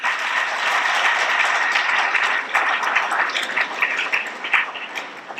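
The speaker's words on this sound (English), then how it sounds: "shall we give a good clap?" An audience at a school silver jubilee celebration claps in a broad, continuous burst, many hands blending into a steady roar that thins out toward the end into scattered individual claps.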